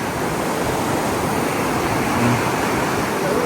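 River water rushes steadily in a turquoise-green river beside a residential area, a dense, even roar of flow that holds close and loud throughout with no voices.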